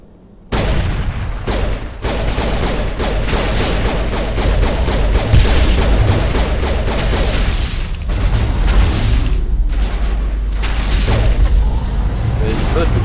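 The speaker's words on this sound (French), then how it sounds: "je vais mettre une grenade ici" Grenade blast in the video game Mass Effect booms amid a dense, loud wash of gunfire, crashes and rumbling combat noise that runs throughout, with players chatting over it.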